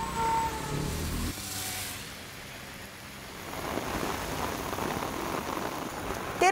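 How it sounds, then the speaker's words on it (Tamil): Heavy rain pours across Tamil Nadu with a broad, steady wash of drops on surfaces, after a brief louder opening sound, and fills the scene without any voices. "தமிழகத்தின் பல்வேறு இடங்களில் மிதமான முதல் கனமழை பெய்தது."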